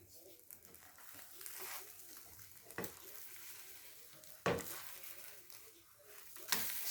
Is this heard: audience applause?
no